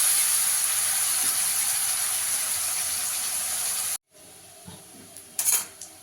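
Onion fries in hot oil in a pan with a loud, steady sizzle for about four seconds. The sizzle then cuts off abruptly, leaving quiet room sound and a few soft clinks.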